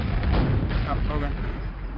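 Rocket launcher blasts in Quake, heavy booming explosions that fill the clip densely and continuously, loud and close with a rumbling low end.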